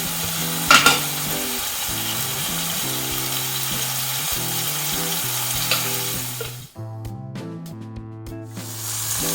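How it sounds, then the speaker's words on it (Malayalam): Tomatoes frying in oil in a pan for a tomato coconut chutney give a steady close hiss and sizzle, with a couple of brief stirring clatters, under soft background music. "നമ്മൾ ഒഴിച്ച എണ്ണയിൽ തക്കാളി വേവണം."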